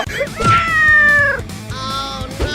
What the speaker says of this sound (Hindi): पकड़ो इस बिल्ली को, मेरा मतलब शेर को, और बॉल वापस ले लो।